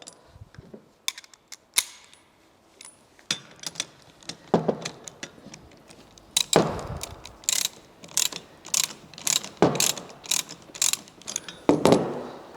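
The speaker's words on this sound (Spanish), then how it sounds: "tenemos aquí lo que es una tuerca de bloqueo que con una carraca" A ratchet and socket wrench work loose the lock nut on a car alternator's drive pulley, giving crisp clicking bursts in uneven repeated strokes, close and fairly loud, growing denser toward the end.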